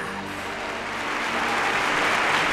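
Crowds in the streets applauding the entrance of Miguel Hidalgo into his city, a dense wash of clapping that swells slightly over a low steady hum, with no talk.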